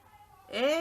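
A cat meows once, a short rising-then-falling mew that stands out clearly near the end after a quiet stretch.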